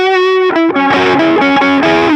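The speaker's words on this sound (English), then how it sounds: "Distortion stays on here, and we're on that neck pickup" Overdriven electric guitar on the neck pickup, with a warm, rounded tone, plays a sustained note, then a run of chord changes, loud and close with no voices.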